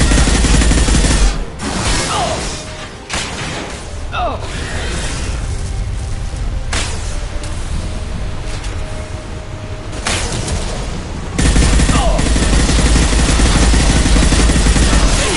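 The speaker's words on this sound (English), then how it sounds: "Heavy fire" Heavy, sustained gunfire in a video game battle, with dense booms and bursts running almost without pause and a brief lull before loud fire resumes.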